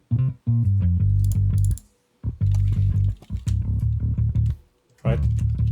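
A synthetic bass line plays a bouncy, repeating riff with short pauses between phrases, clear and up front with no voices.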